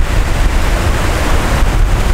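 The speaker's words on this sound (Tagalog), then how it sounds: "Pero yung waves are still strong." Strong ocean surf at Bagasbas Beach roars as a steady, dense wash of breaking waves, loud and close, with wind buffeting the microphone and no voices.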